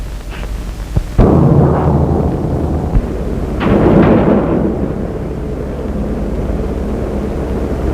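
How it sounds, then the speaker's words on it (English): Thunder from a bad storm booms loudly, with a sharp crack followed by a deep rolling rumble that swells again and then lingers as a steady low roar. "The storm's right behind us. Bad storm."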